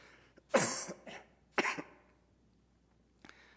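Two sharp, chesty coughs close to the mic, a second apart, then a faint third cough after a pause, from a person with a cold. No talking.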